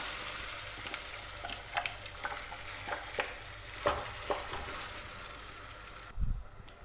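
Tempering spices fry in hot oil for a toor dal chutney, a soft, continuous sizzle broken by a few faint clinks and stirs near the end.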